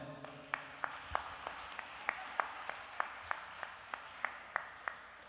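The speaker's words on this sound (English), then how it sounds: "How about a round of applause to all of them?" A small livestream audience applauds at an academic event, sparse individual claps ringing out in a steady, slightly uneven rhythm over quiet room tone, fairly faint and distant.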